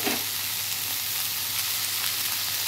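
Capsicum pieces and rice stirred in a hot pan, a soft continuous sizzle and frying hiss with faint scraping, close and steady with no talking.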